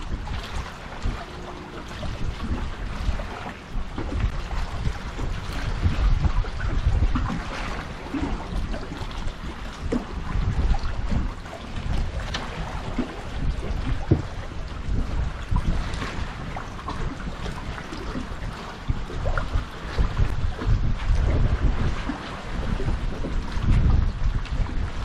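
Wind blows steadily on a fishing boat near docks during sheepshead fishing, as a continuous low rumble and microphone buffeting. The gusts swell and ease throughout, with faint water sounds beneath and no talking.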